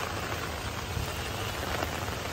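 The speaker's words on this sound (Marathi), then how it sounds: "वारा आहे आणि तेवढंच आहे, पाऊस पण आहे." Heavy rain driven by wind in Mumbai makes a constant, dense hiss of water on surfaces, even and unbroken, at moderate volume with no one speaking.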